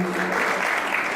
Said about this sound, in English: A round of applause for me